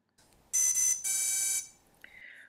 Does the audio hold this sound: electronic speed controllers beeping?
yes